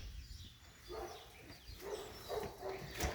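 A dog barks outdoors at someone walking another dog, its barks faint and scattered against background noise, with a brief louder burst near the end.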